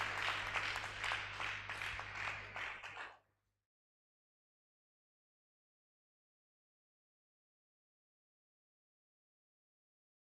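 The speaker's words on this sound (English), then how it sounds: "A big round of applause, please." A burst of audience applause at a college of medicine lecture event, dense and fairly loud clapping for about three seconds, then cutting off into silence.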